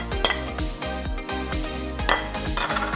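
Dry ingredients of sugar, flour and a pinch of salt being mixed in a bowl for donut dough, a quick repeated clinking and scraping of utensil against the bowl in a steady rhythm.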